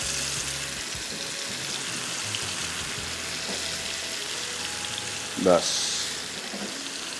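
Fish pieces fry in a pan over medium-low heat, giving a steady soft sizzle throughout with a brief louder spit near the end and a voice speaking faintly over it.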